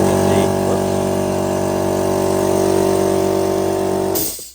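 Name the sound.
air compressor blowing out Dyson V15 vacuum filter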